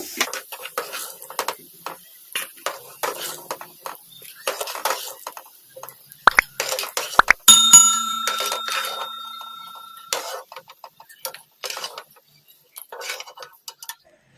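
Fried potatoes are scooped from a pan onto a plate, giving a run of sharp metallic scrapes, clinks and taps of a utensil against cookware, fairly close and busy, with a brief ringing tone midway.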